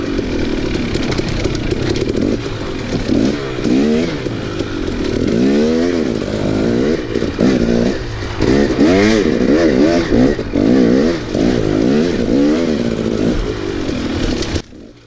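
A dirt bike engine revs hard and repeatedly, shifting through gears as the rider accelerates on wooded mountain trails during an enduro race, loud and close with rising and falling whine.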